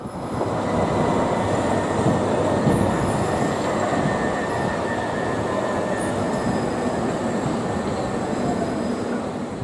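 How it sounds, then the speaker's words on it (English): A British Rail Class 377 electric multiple unit passes close by, a loud continuous roar of wheels on rails with rumbling and faint high squeal, holding steady for nearly ten seconds. "we managed to get a nice section of train spotting with, well, mostly 377 units."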